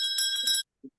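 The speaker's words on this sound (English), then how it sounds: "And there's our bell." A bell rings to open a Rotary club meeting held online, a bright metallic ring of several rapid strikes lasting about half a second, then silence broken by a couple of brief low murmurs.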